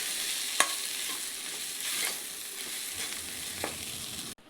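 Egg stir-frying in a pan for egg fried rice, a steady loud sizzle close by with a few sharp spatula scrapes and taps, cutting off abruptly at the end.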